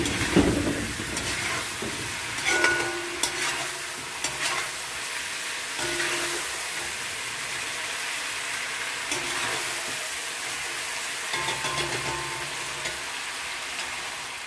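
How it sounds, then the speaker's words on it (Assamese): Local chicken meat fries in oil in a pan with a constant crackling sizzle, punctuated by occasional scraping stirs and clinks of a utensil, close and steady throughout. "যেতিয়ালৈকে মাংসৰ পৰা তেলটো ওলাই নাহে তেতিয়ালৈকে আমি মাংসখিনি ভাজিম।"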